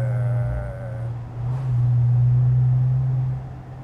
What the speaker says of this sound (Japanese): これマンソリーのマフラーですね。